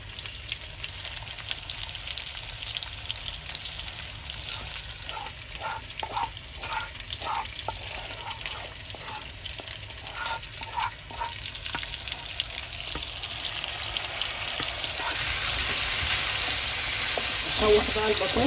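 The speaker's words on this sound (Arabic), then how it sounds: "اشوح بقى البطاطس بالشكل ده. انا كده يعني كأني بحمر البطاطس" Potatoes sautéed in a pan with lemon-dressed chicken marinade nearby give a steady sizzle, with stirring clicks and tosses in the middle stretch and frying growing louder toward the end.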